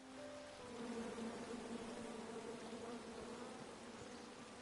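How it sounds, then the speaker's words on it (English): Bees buzz steadily in the King's Quest video game, a continuous faint insect drone that holds evenly for several seconds with no voices over it. "Come at me, bees!"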